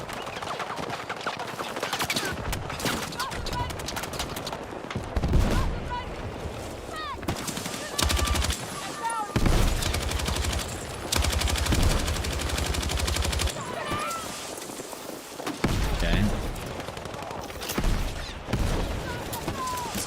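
An L110 machine gun with heavy recoil firing in Battlefield 6, repeated rapid bursts separated by short pauses, loud and close, with other battlefield noise and intermittent talk in between.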